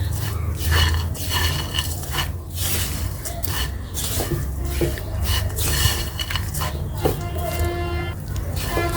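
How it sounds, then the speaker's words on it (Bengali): A metal spoon stirs nawabi semai with milk powder in a pot over low heat, giving steady scraping and clinking of utensil against the pan, close and continuous. "তো আমি গুঁড়া দুধটা দিয়ে ভালোভাবে নেড়ে নিব"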